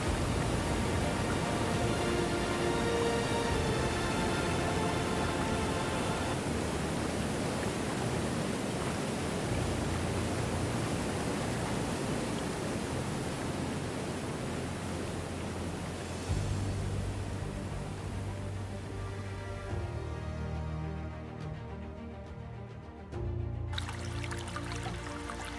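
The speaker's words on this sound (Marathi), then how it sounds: "उंच कड्यावरून धब दिशी दरीतून खडकांवर आदळत आपटत कोणजाईच्या देवराईत उतरते" A mountain stream tumbles down a high cliff onto rocks and into deep pools, making a loud, continuous roar of rushing, splashing water with no voices.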